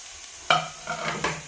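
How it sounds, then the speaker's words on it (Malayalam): Chopped tomato tipped into a pan of frying onions and potatoes, a soft thud followed by a few scraping stirs over a gentle sizzle, close and short. "ഇനി ഇതിലേക്ക് നമുക്ക് അരിഞ്ഞ് വെച്ചിരിക്കുന്ന തക്കാളി ചേർത്ത് കൊടുക്കാം"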